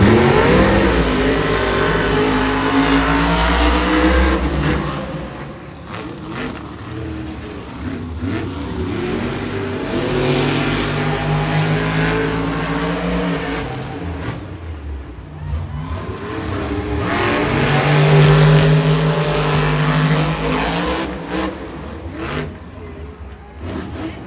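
Monster trucks race at the Monster Jam World Finals stadium event, their big engines roaring and revving continuously and loudly, swelling and falling as they accelerate around the track, with an announcer talking over the noise.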